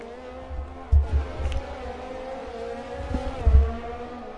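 Racing cars in an F1 video game league race around the Abu Dhabi circuit, engines droning steadily with a couple of sharp, loud bursts of revving and gear changes as cars battle close together.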